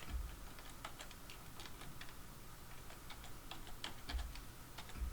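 Fast, light clicking of keys on a computer keyboard, typed in quick irregular bursts, with a few soft thumps from the desk, faint and close by in a quiet room.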